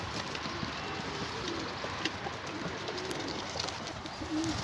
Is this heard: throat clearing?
no